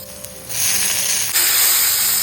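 Green beans and flat beans tipped into a pan of fully fried potatoes for khichuri on a rainy day, setting off a loud, steady hissing sizzle that swells once the vegetables land and keeps spitting throughout.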